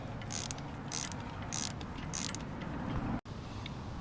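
A ratchet wrench loosens a tight engine bolt during a Toyota Sienna to Camry V6 engine swap: a close, fairly quiet series of rhythmic clicking pawl bursts, then a brief pause and one more faint click.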